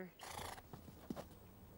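A horse lets out a loud whinny near the start that lasts about half a second, followed by a few softer snorts and hoof sounds during a calm training session.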